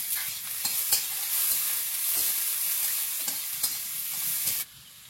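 Onion frying in oil in a pan, a steady bright sizzle with occasional stirring clicks and scrapes, fairly faint and alone before cutting off near the end.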